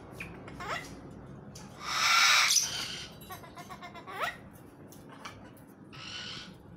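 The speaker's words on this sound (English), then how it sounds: "We have the umbrella cockatoo on my right, and I think the other one is salmon-crested cockatoo." An umbrella cockatoo and a salmon-crested cockatoo give harsh, screeching calls: several short squawks and one loud, sustained shriek, with quieter calls scattered between them.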